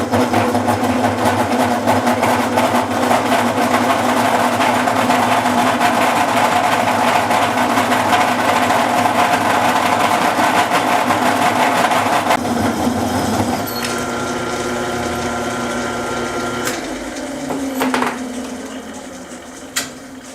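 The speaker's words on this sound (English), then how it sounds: "Chattering cut-off tool notwithstanding, which I'll have a little look at, make sure I've got it set right." A chattering cut-off tool on a lathe cuts an aluminium BSA Victor Special fork part, with a steady, harsh grinding drone close by that quiets after a while and ends with a few light clinks.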